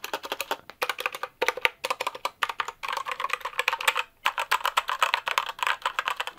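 Rapid typing on a budget gaming keyboard with linear red switches, a steady stream of crisp close-up keystrokes with brief pauses, continuing for several seconds with no talking.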